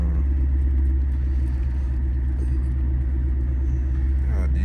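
A Ford Mustang with a freshly installed clutch and short-throw shifter idles to warm up, a steady, close engine rumble holding low and even throughout with no revving.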